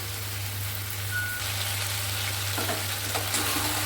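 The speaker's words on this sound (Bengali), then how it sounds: "কোনো ঝুট ঝামেলা ছাড়াই আমি চিকেনটা রান্না করছি" Chicken cooking in a pan with turmeric gives a continuous sizzle with occasional stirring scrapes over a low, steady background hum.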